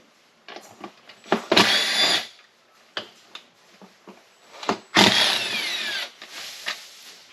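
Short bursts of a handheld power tool whirring as it spins out the screws holding the recoil starter on a Holzfforma G366 chainsaw, a Stihl MS361 clone, with quieter clicks and handling noises between the bursts.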